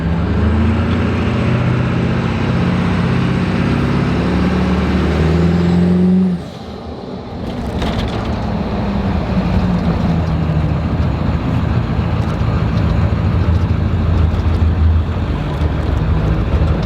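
A 7.3L truck engine running as the truck drives, a steady, loud, deep drone heard from inside the cab, briefly easing around the middle before building back up.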